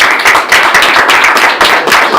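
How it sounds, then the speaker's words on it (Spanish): An audience claps for Mauricio at the close of a book talk about Los Niños de la Rebelión, a loud, close burst of hand clapping with slightly uneven pulses and no speech. "Demos un aplauso a Mauricio."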